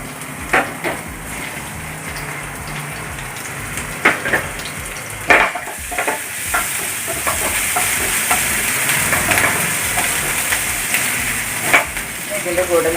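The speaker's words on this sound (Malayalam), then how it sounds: "ഇനി നമുക്ക് വെളുത്തുള്ളി ഇഞ്ചിയും ഇട്ട് ഇളക്കിയെടുക്കാം" Garlic and ginger stirred in hot coconut oil in a pan while making chicken cutlets, giving a steady close-up sizzle broken by scattered clatter and scraping from the spoon.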